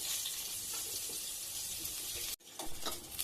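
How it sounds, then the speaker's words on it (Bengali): Potato pieces fry in hot oil in a home kitchen, a constant bright sizzle that briefly cuts out before resuming with stirring crackles. "এখন আলুটা ভেজে নেব।"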